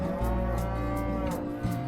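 Dairy or beef cattle on a livestock property in the Riverina, Australia, low sustained moos, loud and close, one long bellow overlapping with others from the herd.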